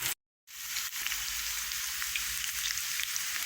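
Chili sizzles in a pan for a Jamaican-style tofu and spinach curry, a steady broadband frying hiss that starts after a brief silent gap and runs on evenly, close and fairly loud, with no talking.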